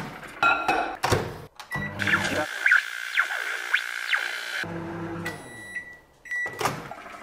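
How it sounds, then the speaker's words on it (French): A microwave oven runs with a steady hum while melting chocolate and butter, framed by door thunks, clicks and beeps before and after the heating run; no one speaks. "vous allez le faire fondre au micro-ondes à peu près 3 minutes"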